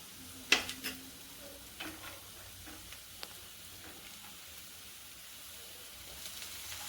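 Tomato, capsicum and carrot tossed onto browned onions in a hot pan: a few sharp spoon clacks against the pan at first, then a soft, steady sizzle with light stirring scrapes.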